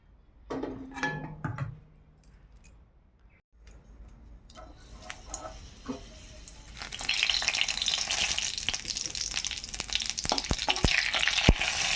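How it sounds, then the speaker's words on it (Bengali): Bengali fish curry cooked in oil (macher tel jhal) bubbling in a pan, quiet at first with faint clinks, then building after several seconds into a dense, loud crackling sizzle that continues to the end. "মাছের তেল ঝালটা প্রায় হয়ে এসছে, আর একটুক্ষণ ফুটে যাক, তারপর নামিয়ে নেব।"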